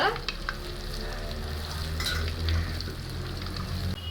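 Bondas frying in hot oil while a wire ladle turns them gently, a continuous close bubbling sizzle with light scraping touches and no talking.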